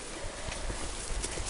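Horses walking on a farm visit, hooves clip-clopping in a steady, soft rhythm under a broad wash of wind or outdoor noise.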